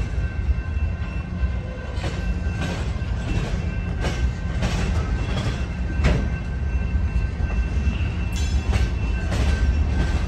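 A BNSF manifest freight train rolls past the Calwa diamond crossing in Fresno, California, a loud, continuous rumble of railcars with repeated clacking as wheels strike the crossing and a brief horn-like tone near the end.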